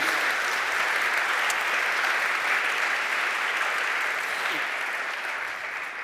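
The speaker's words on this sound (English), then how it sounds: "Please, again, another round of applause." An audience applauding after a talk on a learning hand prosthesis, a steady wash of many hands clapping that slowly thins and fades.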